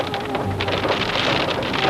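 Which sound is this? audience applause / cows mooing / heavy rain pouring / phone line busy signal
heavy rain pouring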